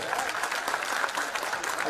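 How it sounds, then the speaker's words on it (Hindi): Dense applause from a crowd at Rahul Gandhi's public rally at Lalpur airstrip in Shahdol district, a steady wash of many hands clapping at close-to-mid distance for the whole short stretch. "अभी आपने ताली बजाई"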